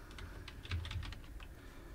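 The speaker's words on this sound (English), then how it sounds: "and I'm going to type green." Quick, uneven keystrokes on a computer keyboard while entering HTML and CSS code, a short burst of close, soft clicks and taps with no voice.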